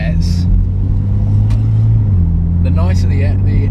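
A Porsche engine drones low and steady from inside the moving car, swelling slightly as it revs, while a person talks over it at close range.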